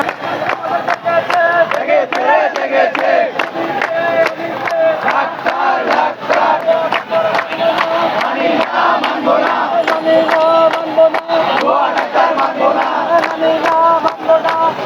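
A large crowd of medical students at a protest chants a slogan in unison, loud and rhythmic with repeated shouted phrases, and the chant carries steadily throughout.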